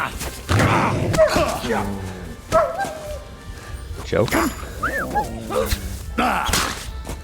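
A dog in the video game Kingdom Come: Deliverance 2 yelping, barking and whimpering in pained bursts, with rising whines, loud and close, mixed with shouting voices and scuffling sounds.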